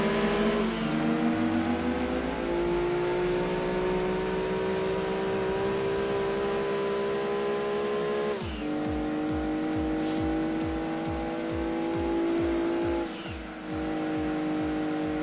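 Race cars in the Gran Turismo 2 video game accelerate off the line, engines revving up through gear shifts with rising and dropping whines, a loud continuous roar with brief tire squeal and no talking.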